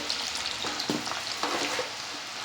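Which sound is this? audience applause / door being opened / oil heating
oil heating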